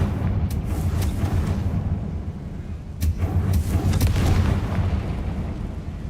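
Confringo fire spell explosions in Hogwarts Legacy give a run of deep booms and rumbling blasts over a constant low roar, several sharp bursts standing out.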